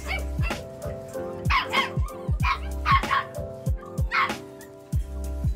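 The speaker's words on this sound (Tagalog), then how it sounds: "Napakarami ko pong aso dito." Several Pomeranian dogs at a breeder's kennel bark and yip loudly and repeatedly in quick overlapping bursts, close by, with no talking over them.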